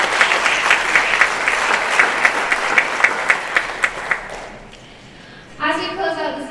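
Audience applause at a Chillicothe Middle School band recital in May 2021: dense clapping from a crowd fills the room for about four seconds with a few sharp nearer claps, then fades into a quieter stretch before voices begin.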